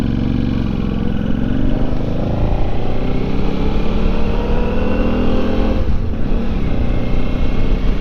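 A motorcycle with new fork seals and head bearings rides along an icy road, its engine droning loud and close with a steady hum and a slight dip around the sixth second.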